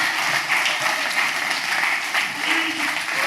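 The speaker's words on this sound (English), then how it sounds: "give him a round of applause" Conference audience giving a round of applause for a presenter at a business event, steady dense clapping filling the room throughout without a break.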